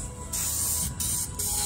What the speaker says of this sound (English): spray it in a nice color